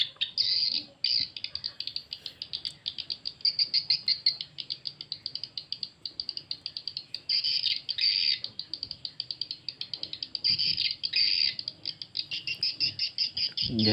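A swiftlet call recording, Twitter AX65, plays a long run of rapid, high-pitched chirps in quick repeating bursts, fairly loud and close, with short pauses between groups over a faint low background.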